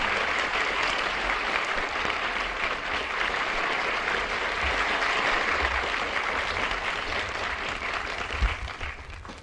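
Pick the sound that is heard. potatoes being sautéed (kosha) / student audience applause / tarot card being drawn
student audience applause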